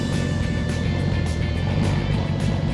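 A wrecked Audi R8's engine runs loudly just after startup, a dense, steady low roar heard close up and continuous, with no voices.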